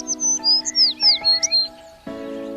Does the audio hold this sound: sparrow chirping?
yes